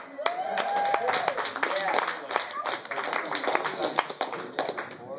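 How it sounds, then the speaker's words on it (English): Scattered audience clapping at an open mic comedy night, close and uneven claps that come and go while people talk over them. "on, that deserves an applause."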